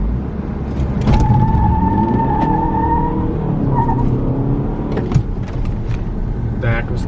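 A tuned diesel Audi Q3 revs and launches hard at a drag racing event, engine roaring steadily for several seconds under crowd chatter and nearby voices.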